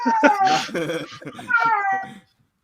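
A cat meows several times in a row, close and loud, its calls rising and falling before stopping abruptly into silence.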